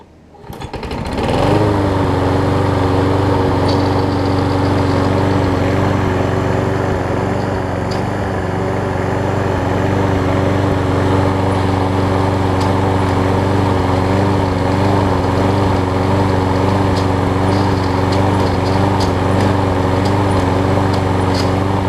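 A Toro Super Recycler lawn mower engine runs loud and close, droning steadily with a rough mechanical grind from stripped self-propel gears jolting, with no pauses or voices.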